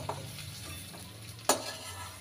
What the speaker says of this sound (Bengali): এবার আমি ফোড়ন দিচ্ছি। দেখো শুকনো লঙ্কা দিলাম